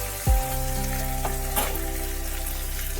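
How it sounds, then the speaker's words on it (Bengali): Raw mango frying in oil, a steady bright sizzle over a constant low hum, with a brief thump near the start and a couple of faint stirring touches. "আম তেলের মধ্যে একটু ভেজে নিলে একটু টেস্ট হয়"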